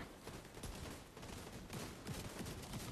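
Dense, continuous automatic gunfire rattles through a shooter video game, with rapid overlapping shots aimed at the Boomer boss's backpack. The firing stays loud and steady the whole time.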